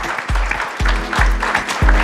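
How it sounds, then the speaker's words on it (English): An audience at a launch event for the GA EcoDrive cover, including an EV charging module, applauds in a continuous close wash of claps, with a few heavy low thumps underneath. "Round of applause."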